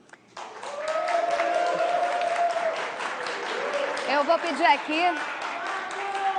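Audience applause fills the hall at the close of a televised debate between Rio de Janeiro governor candidates, steady and sustained, with someone speaking over the clapping near the end.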